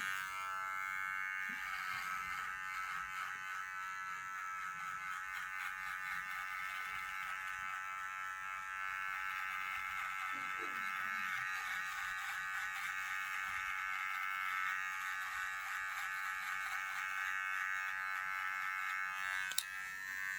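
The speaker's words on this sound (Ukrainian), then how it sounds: "подивитися, як працює тример" An electric beard trimmer cutting week-old stubble gives a steady, close mechanical buzz that runs unbroken for about twenty seconds, its pitch wavering slightly as it moves over the face, with no speech.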